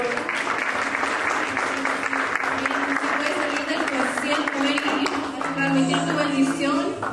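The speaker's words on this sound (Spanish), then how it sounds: "A great applause to the Lord." A congregation applauds continuously, a dense wash of clapping that holds steady for several seconds, with a voice faintly audible beneath it.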